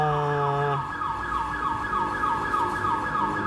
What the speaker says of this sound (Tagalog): umingay yung alarm sa kabila kaya medyo maingay